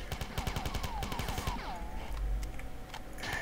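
Grenade launcher and other weapons fire in the video game Marathon, a fast burst of rapid gunfire followed by descending synthetic whines and a low rumbling blast.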